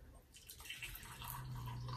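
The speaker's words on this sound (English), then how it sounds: "So let me just pour this hot water there." Hot water poured by hand into a small container, a steady liquid splash and trickle close by that builds and continues throughout.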